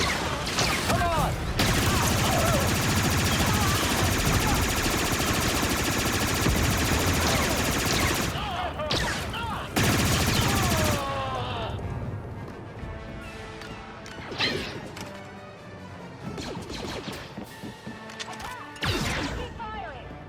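Dense, loud blaster gunfire in the Star Wars Outlaws video game, a sustained barrage of rapid shots and crashes that later thins into scattered bursts, with shouted voices mixed in.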